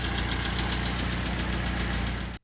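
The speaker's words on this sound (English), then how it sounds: "we did manage to get the engine fired up" A swapped Honda D16Y8 engine runs in a home garage, a loud, steady close idle with a rapid rhythmic knocking pulse throughout before cutting off.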